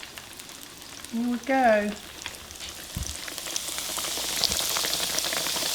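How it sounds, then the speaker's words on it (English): Oil sizzles and crackles steadily as catfish fries, growing slightly louder toward the end; a person speaks briefly near the start. "I'm going to finish frying these up."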